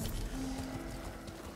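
Steady clip-clop of horse hooves in the video game Ghost of Tsushima at a moderate pace, continuous and fairly close, with a faint tonal hum in the background.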